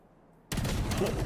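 Wall-bang gunfire in a Valorant match, a sudden loud burst of rapid shots that starts after a brief quiet moment and carries on densely to the end.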